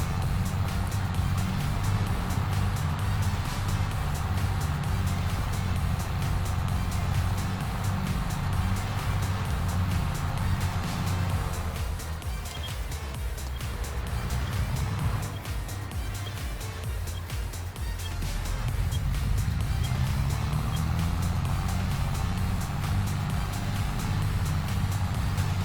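A farm tractor engine runs steadily and loudly up close during silage loading in Iowa, its low rumble dipping briefly midway and then building back to full strength.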